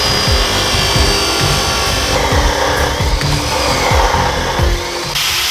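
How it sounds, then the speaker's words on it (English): A forge-welded Damascus steel billet is cut in half, giving a steady loud rasping, sawing grind with rhythmic strokes close to the listener, no voices. "Cutting the steel in half"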